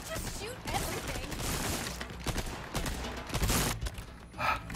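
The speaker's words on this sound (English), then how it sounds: "I'll just shoot everything." Gunfire in the video game Resident Evil 4 Remake comes in irregular bursts and sharp shots at close range over a busy background, with a player's voice talking at times.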